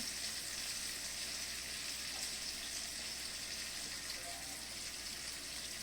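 Anchovies frying in coconut oil: a steady, even hiss and sizzle that runs without a break, soft and close, with no talk over it.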